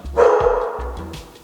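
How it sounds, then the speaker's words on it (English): A pet dog gives a single loud close bark that trails into a brief rough growl-like tail indoors, with nobody talking. "That's my dog."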